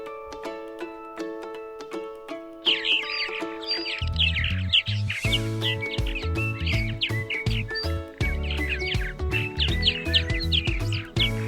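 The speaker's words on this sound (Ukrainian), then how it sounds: "В першій половині травня повертаються ластівки." Swallows returning in spring chirp in quick, busy twittering that starts a few seconds in and carries on over sustained background music, fairly soft overall.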